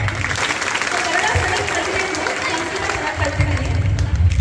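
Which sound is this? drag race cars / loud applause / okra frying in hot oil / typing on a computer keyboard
loud applause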